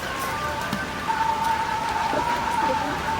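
Pieces of desi magur catfish sizzle in hot oil in a pan, a soft continuous crackle and spatter like light rain, with a faint steady hum running beneath.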